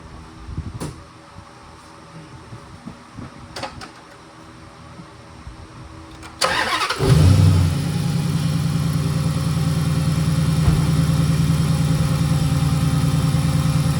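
A 2010 Dodge Challenger SRT8 with the 6.1 engine, running hot after a thermostat change, is cranked after a few quiet clicks and bangs, catches with a loud surge, then settles into a steady, deep, loud idle close by.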